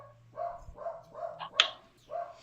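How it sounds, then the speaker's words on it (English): A dog barks in a quick series of four or five short, moderately loud yaps at a steady rhythm, heard behind quiet background hum with no talking. "I think the dog is pissed"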